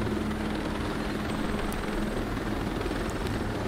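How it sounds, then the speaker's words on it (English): A helicopter in the video game Ghost Recon Breakpoint gives off a steady, loud rotor drone with a heavy low thrum. It holds constant throughout, with no talking over it. "We'll step on to the chopper and reach Etheric Residences."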